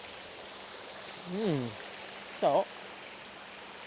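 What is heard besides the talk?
waterfall at a motorway services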